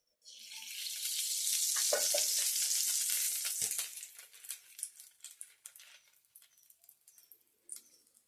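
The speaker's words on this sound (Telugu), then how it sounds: "తవా హీట్ అయిన తర్వాత కొంచెం నెయ్యి వేసుకొని బ్రెడ్ని 2 సైడ్స్ బాగా టాస్ చేసుకోవాలి" Bread frying in ghee on a hot tawa, a loud hiss that starts sharply, holds for a few seconds, then breaks into fading crackles and light pops.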